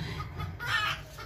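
A brooding hen kept with a rooster gives a short run of soft, close clucks over a low background rumble.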